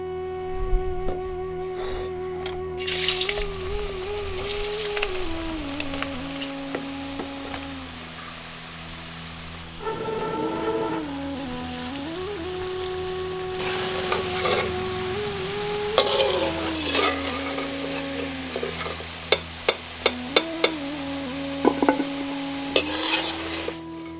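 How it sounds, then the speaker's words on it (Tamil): Boiled kuppa keerai (spinach) pieces frying in hot oil in a pan, a continuous close sizzle with periodic stirring scrapes and a few sharp utensil taps toward the end. "துண்டு துண்டா நறுக்கி கொஞ்சம் எண்ணெயில அதை பொரிக்க ஆரம்பிச்சிருவோம்"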